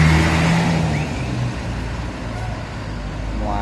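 A bus engine rumbles steadily at close range, a deep low drone with a faint hiss on top and no talking.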